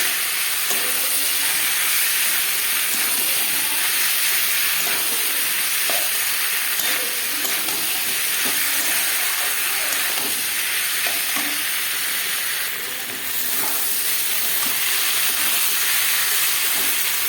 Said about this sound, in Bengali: ডোমুরটা দিয়ে আলুটা দিয়ে ভালো করে কষিয়ে নিতে হবে একটু